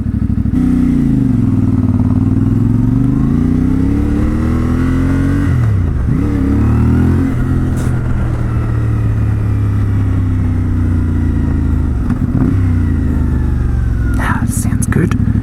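A CFMOTO 450MT motorcycle engine revs up loudly and repeatedly to about 3,500 rpm, pitch rising and falling with each throttle blip, under a rider's voice, with passing traffic nearby.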